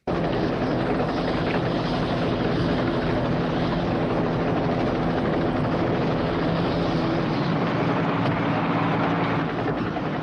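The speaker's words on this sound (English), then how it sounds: "we go from a very close-up shot to then seeing Lois run to the helicopter." A loud helicopter roars continuously, its rotor chop and engine noise filling the whole stretch without letting up.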